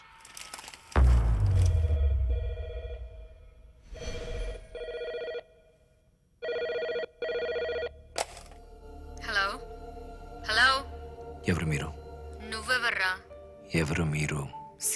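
A telephone rings with repeated bursts in a tense indoor scene from the Telugu film Mallanna, with loud thuds early on and people talking over and between the rings.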